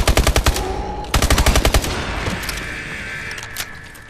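Rapid machine-gun bursts in the Call of Duty: Advanced Warfare Exo Zombies map "Descent", two loud rattling volleys followed by quieter scattered gunfire and game ambience.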